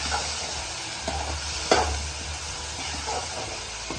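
Potato and bitter gourd curry with turmeric sizzles in a pan while a spoon stirs it, giving a steady frying hiss with a few soft scraping strokes and one sharper clack partway through.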